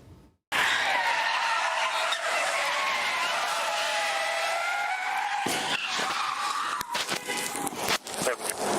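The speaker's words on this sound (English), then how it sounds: "my cruiser just got hit" A car skids on a slick Connecticut road and hits a state police cruiser: a long, loud tire screech, then a sharp impact with crunching and rattling, close and dominant.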